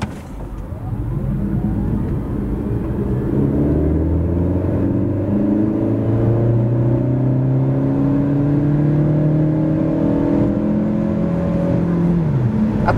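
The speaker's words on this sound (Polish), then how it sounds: "W trybie sportowym auto jest ostrzejsze i tak przyspiesza od 0 do setki." A 2024 Nissan Juke e-Power hybrid with 143 hp accelerates from 0 to 100 km/h in sport mode, its engine rising steadily in pitch and loud, with a whirring drone and gear-like steps, uninterrupted by talk.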